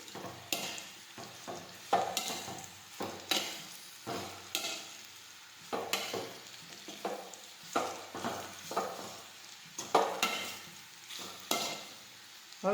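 Torn roti snack is stirred and turned in a frying pan, rhythmic scraping strokes roughly every second over a soft sizzle, close and moderate in level.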